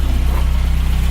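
A 1979 Toyota pickup engine runs with a new header and exhaust, giving a steady low, throbbing exhaust pulse that is loud and close for a brief moment with no talk.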